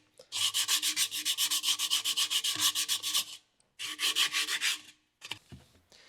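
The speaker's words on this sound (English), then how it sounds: "I'm just going to take some sandpaper and just kind of lightly hit this" Sandpaper rubbed lightly over the wooden bottom of a boat capstan in quick, steady back-and-forth strokes, a long close run of rhythmic scratching, a short pause, then a second burst before a few faint knocks.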